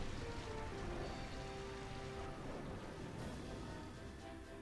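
Rain effect from the Rain Dance move in the Pokémon Colosseum video game, a steady, soft hiss of rainfall with faint pattering drops that carries on evenly.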